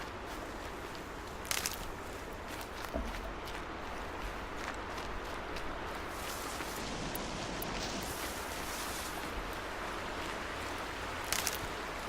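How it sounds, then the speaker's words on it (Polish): Steady broadband rush of a stream or river in the video game Horizon Zero Dawn, continuous throughout with a few brief clicks and small knocks on top, no talk. "Ale szumi woda."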